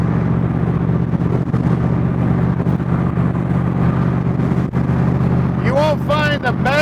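Engine of a 1965 Shelby Cobra replica cruising down a road, a steady loud low rumble with wind noise that holds throughout, while someone talks over it.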